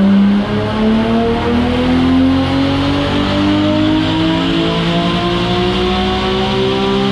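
A 2JZ-swapped BMW E92 M3 screams through a dyno pull, its engine note climbing steadily in pitch as the revs rise, loud and continuous throughout.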